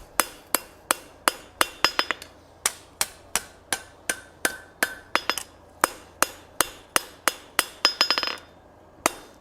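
A hand hammer dresses a forged steel coal rake made from spline stock, ringing with about two dozen sharp, bright metallic strikes in a steady rhythm with brief pauses, close up and alone.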